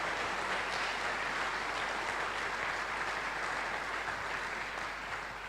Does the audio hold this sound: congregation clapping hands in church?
yes